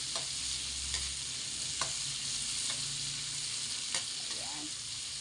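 Pork fat and tomatoes sizzle steadily in a pan for pakbet, a close, constant frying hiss broken by a few soft scraping stirs of a utensil against the pan.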